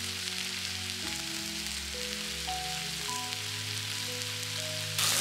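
Ribeye steak and onions sizzling on a tray over a campfire at Black Rock Mountain State Park, a steady hissing crackle like light rain with soft tonal hum beneath, no talk.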